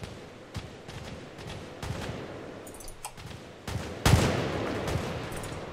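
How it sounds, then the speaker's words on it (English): Gunfire in Arma 3 arrives as scattered shots and short automatic bursts, some distant and some sharper, ending in a louder close volley. "We're taking some fire."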